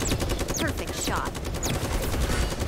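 Fast volleys of gunshots in the mobile battle royale game Super Mecha Champions, a dense rattling stream of loud repeated shots with sharp whizzing effects cutting through.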